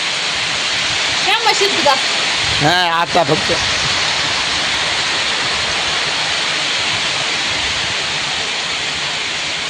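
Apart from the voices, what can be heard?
heavy rain falling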